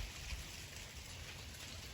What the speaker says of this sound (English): I don't know if you can hear it dripping off the trees.